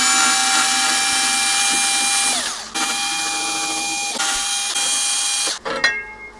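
A power screwdriver whirs steadily and loudly while backing out the side case screws of a heavy Revox reel-to-reel deck, its pitch shifting and stopping briefly between screws, ending with a clatter.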